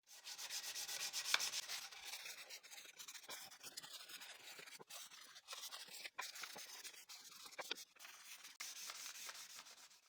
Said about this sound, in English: Now I move on to hand sanding, starting with 100 grit.